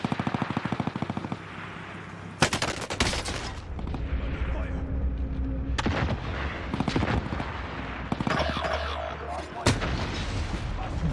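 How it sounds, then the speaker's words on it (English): Heavy Warzone battle-royale gunfire fills the scene, rapid machine-gun bursts and booming shots stacked densely, with a sharp blast near the middle from a thrown grenade, loud and continuous throughout. "Throwing out a grenade."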